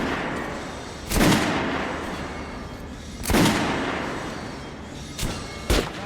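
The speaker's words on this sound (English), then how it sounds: "head over to my range and try out those guns" Guns fired at a shooting range in Metro Last Light Redux: four sharp, loud shots spaced a second or two apart, each with a short ringing decay, with no talking.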